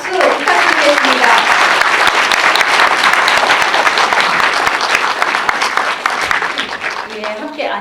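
A cinema audience at a post-screening talk for the film Diving Bell bursts into loud, sustained, dense applause that fills the room, with brief speech at the start and end.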